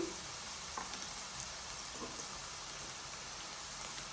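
Capsicum frying in oil gives a faint, steady sizzling hiss with small crackles, heard alone without any talking.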